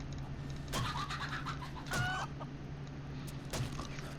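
Chickens clucking in the 7 Days to Die survival game, a few short bursts of fowl calls recurring over a steady low background hum, moderately loud.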